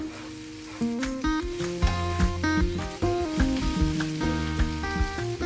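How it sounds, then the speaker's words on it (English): Potatoes sizzling in a frying pan over a low flame: a continuous soft, hissing fry runs beneath louder melodic background music throughout. "Add the potatoes into the pan."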